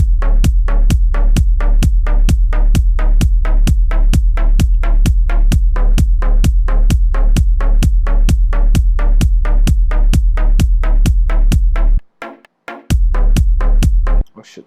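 Electronic drum beat programmed in Ableton, with a steady four-on-the-floor kick and claps on every other kick, looping loud and evenly, briefly dropping out near the end before restarting.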